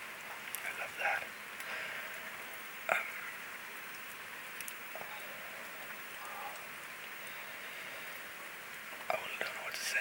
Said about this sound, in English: Just being inside, listening to the rain outside.